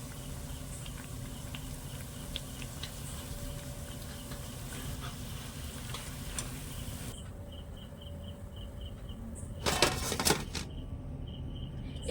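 Chhana toast sweets made with flour fry in hot oil, a steady low bubbling sizzle with faint crackles running throughout, briefly louder near the end.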